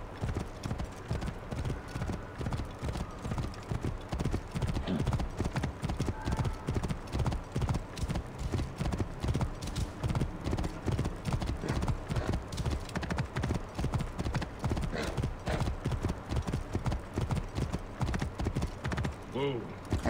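Horse hooves pound in a steady, rapid galloping clip-clop across the desert in Assassin's Creed Origins, loud and continuous, with an occasional whinny and game ambience underneath.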